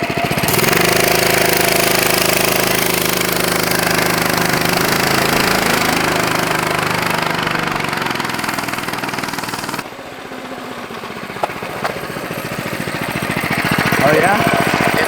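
A homemade $100 minibike engine runs loud and close with a rough, rattling drone, holding steady revs before dipping and climbing again, while people talk over it.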